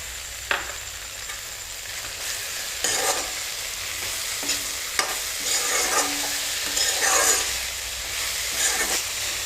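Tomatoes and fiddlehead ferns frying in a pan are stirred with a utensil, irregular scraping strokes over a steady sizzling hiss, close and moderately loud, with no voices.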